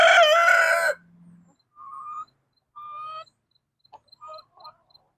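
A rooster crows loudly at the start, then a chicken gives a few short, quiet clucks and murmurs scattered over the next few seconds, close by and with silence between them.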